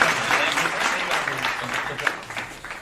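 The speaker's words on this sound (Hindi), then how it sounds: "तो जो भाई ताली होनी चाहिए।" A crowd gives a burst of applause at a welcome ceremony for a police sub-inspector, with steady clapping at moderate distance and voices beneath it.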